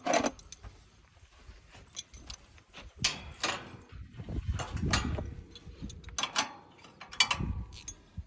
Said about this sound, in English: And then a couple of wrenches, and you can tighten this latch up.